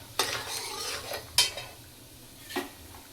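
Chana dal tipped into spluttering mustard seeds in hot oil for a Brahmin-style tamarind rice tempering, giving three sharp rattling clatters amid a light crackling fry, with no talking.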